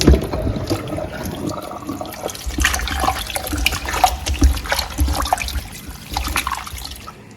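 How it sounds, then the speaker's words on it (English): Cold water is poured onto cooked plantain just taken off the fire, making a continuous splashing trickle with low gurgling that rises and falls over several seconds. "you just add cold water on your plantain"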